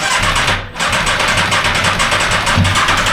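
A faulty Aprilia Tuono 1100 factory motorcycle runs roughly, its engine churning at a steady uneven idle with a brief dip partway through, loud and close with no talking.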